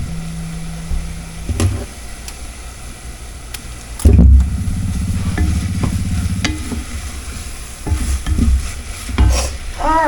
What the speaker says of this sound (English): Y'all know I like to kind of brown my rice a little bit before I throw the liquid to it.